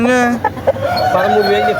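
At a country chicken market a rooster or hen gives a brief clucking call close by while a person talks over it.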